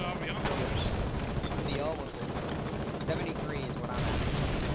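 Mortar tank shells fire and explode in Foxhole amid dense battlefield rumble and gunfire, loud booming bursts layered over constant combat noise, with voices talking over it.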